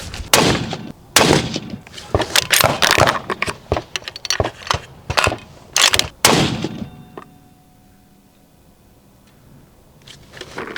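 Sharp, loud cracks of a .223 rifle on a range while zeroing a Vortex Razor Gen 3 LPVO scope, a rapid irregular string of shots with echoing tails, then a quiet gap before another report.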